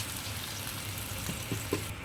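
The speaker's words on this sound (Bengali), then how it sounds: "কষানো হয়ে গেছে, পানি দিলাম।" Water goes into a hot pan of sautéed fish curry with tomato, potato and taro, setting off a continuous close hiss and sizzle. A few soft stirring clinks come near the end.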